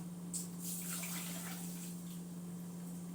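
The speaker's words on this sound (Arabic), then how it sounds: "وادي كوبايه ميه" A cup of water is poured for basbousa sugar syrup in a home kitchen, giving a short, soft splash and trickle with a steady low hum beneath and no talking.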